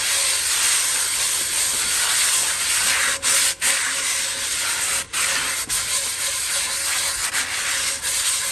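Bare cast iron pan scrubbed hard, a continuous loud rasping rub running for several seconds with a few brief pauses between strokes.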